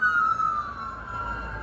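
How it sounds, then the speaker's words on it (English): A wailing ambulance siren sweeps past on a street in Las Vegas, loud and steady for a moment with no voices over it. "There goes the ambulance."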